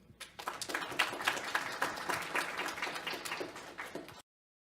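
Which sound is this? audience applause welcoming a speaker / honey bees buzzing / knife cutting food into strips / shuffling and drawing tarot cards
audience applause welcoming a speaker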